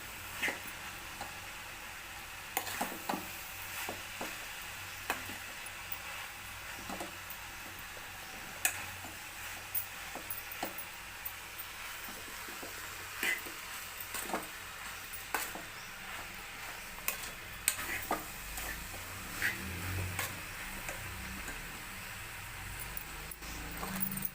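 Flat bean (chikkudukaya) curry frying in a pan over a medium flame gives off faint, scattered ticks and crackles over a low, steady hiss, quiet throughout.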